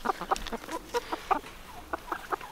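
Chickens, older laying hens in a winter coop, cluck in short, irregular bursts close by, fairly soft, with no talking in between.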